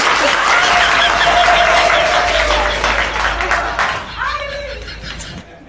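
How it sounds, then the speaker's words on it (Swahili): A classroom group bursts into clapping for a few seconds, the applause loud at first and then fading away, with scattered laughter and a voice speaking as it dies down. "Makofi tafadhali."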